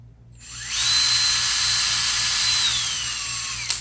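A power drill whirs up during guitar fret ferrule installation, holds a high steady whine for a few seconds, then winds down; loud and close, with no talking.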